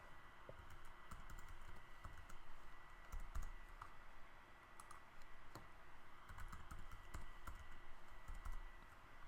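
Fingers tap out a new password on a computer keyboard, a quiet, irregular run of soft key clicks in short bursts against a low room hum.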